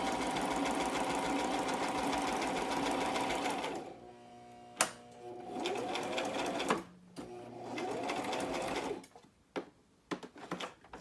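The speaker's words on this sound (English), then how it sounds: "So I just sew down the center of the little booklet." A sewing machine stitches down the centre of paper booklet pages for a handbag purse journal. It runs in a steady close whir, stops, then starts again in shorter bursts with small clunks between runs.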